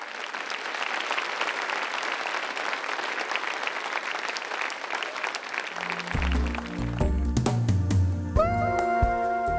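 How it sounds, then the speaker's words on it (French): A church congregation applauds in a sustained, even roar of clapping for several seconds, and then music with a low bass line and bright sustained notes rises in as the clapping continues. "Donnons une main d'applaudissement au Seigneur."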